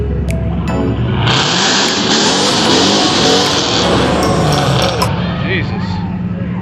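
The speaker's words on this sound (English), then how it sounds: "the Mustang, yeah, it's pretty fast" A Ford Mustang revs and accelerates at a car show, a loud, sustained engine roar with crowd noise and people talking nearby.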